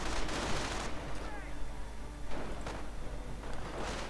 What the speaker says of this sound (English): And this is in fact getting mortared.